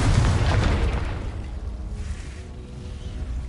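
A Confringo blasting spell exploding in the video game Hogwarts Legacy, a deep loud boom that rolls into a fading rumble and whoosh.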